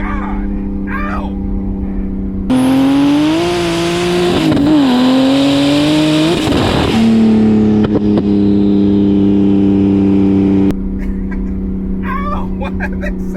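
A 715 whp BMW 335i with an N54 engine on a Precision 6766 single turbo accelerates hard nearby, its loud rising engine roar climbing through the gear with a brief shift dip, then settling to a steady drone before cutting off.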